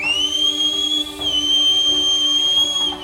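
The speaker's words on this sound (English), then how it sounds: "I will whistle sharply enough that my party can hear." A single sharp, sustained whistle holds one high, piercing pitch for about three seconds, loud and close, with no speech.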